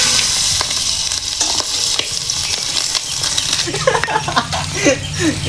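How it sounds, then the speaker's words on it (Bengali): Fish rubbed with salt and turmeric frying in a hot kadai, giving a steady loud sizzle with occasional light clinks and stirring noises near the pan. "নুন হলুদ মাখানো শেষে আর কড়াইতে মাছগুলো দিয়ে দেবো"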